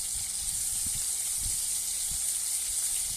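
Cumin and coriander paste in hot oil in a wok gives a steady, moderately loud hiss with soft low bumps underneath, heard briefly without talk.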